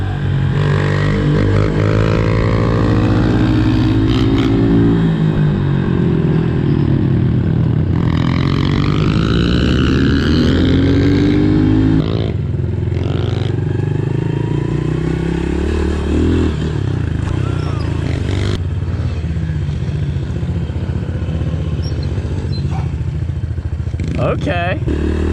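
Pit bike engines roar loud and close throughout while the riders pull wheelies in Utah, with the revs rising and falling against scraping and clatter, and voices talking over the noise.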